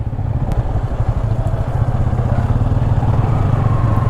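A motorcycle engine rumbles steadily and loudly up close while the bike is parked at a tent campsite near Manali in Himachal, after a ride from Ambala.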